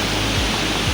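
A waterfall roars close by as a loud, steady wash of broadband rushing noise with no pauses or voices.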